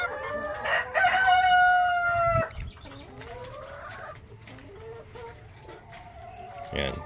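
Dekalb Brown and Rhode Island crossbreed chickens on a farm: a rooster crows loudly and close at the start, then hens cluck and call more softly over a low background hum.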